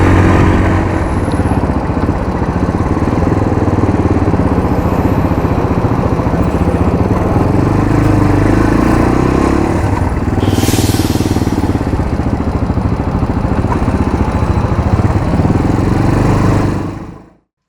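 A CFMoto Papio motorcycle rides through a chicane, its small engine droning loud and steady close by with a brief whoosh of wind midway before the sound cuts off abruptly.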